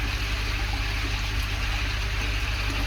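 Water draining down through the media of an up-flow filter, a steady close rushing and trickling stream, constant and fairly loud throughout with no talking.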